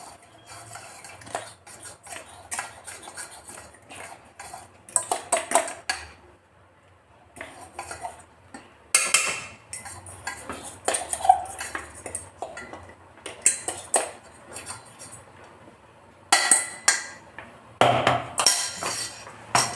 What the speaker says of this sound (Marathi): छान असे पाकासंग मिक्स करून घेऊ